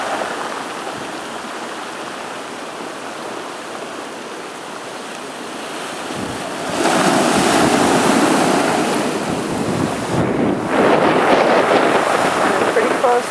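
Ocean waves pound the shore on the Sakonnet during Hurricane Sandy, a loud continuous roar of surf and gusting wind that swells louder midway through, with no voices heard.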